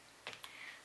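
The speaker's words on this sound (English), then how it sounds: "I will slow down the typing" A few slow keystrokes on a NerD LED keyboard: two or three quiet clicks close together, then one more, faint and close, with no one talking.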